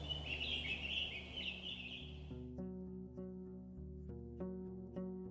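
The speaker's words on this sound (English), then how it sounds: "Dozens of birds live among the collapsed roofs. Their fluttering, singing, and squawking is free of worries." Birds sing and squawk among collapsed roofs in ruins in the video game Roadwarden, with bright chirping over a low musical drone before the birds fade and sustained music plays alone.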